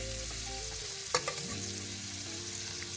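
Onions frying steadily in a pan inside a camper van on a rainy day, a continuous close sizzle with a brief clatter of stirring near the middle, no voices.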